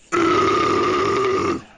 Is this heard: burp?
yes